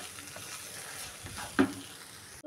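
Bitter gourd stuffing with amchur powder frying in a pan as it is stirred, giving a quiet, steady sizzle with a single louder scrape near the end, close and without talking.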